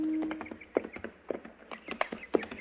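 Mules ridden by two armed riders approach on a trail, hooves clip-clopping in an uneven walking rhythm at moderate distance, with a faint tone at the start.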